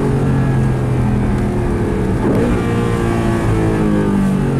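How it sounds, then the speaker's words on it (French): A low four-wheel-drive car's engine rumbles loudly and steadily, with the pitch dipping and rising midway as it downshifts, heard up close from inside or near the car. "Et le bruit quand on rétrograde, c'est quand même sympa"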